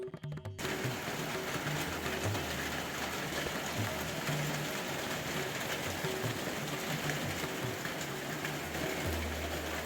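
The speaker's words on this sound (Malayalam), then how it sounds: "പിന്നെ കുറച്ച് കഴിഞ്ഞപ്പോൾ പെട്ടെന്ന് തന്നെ മഴയും പെയ്തു" Steady rain hisses continuously at a moderate level, with a low rumble underneath and no voices.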